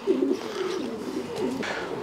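Racing pigeons coo near a loft after a long-distance race, with several soft throaty coos up close and some rustling behind them.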